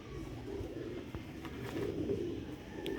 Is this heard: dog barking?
no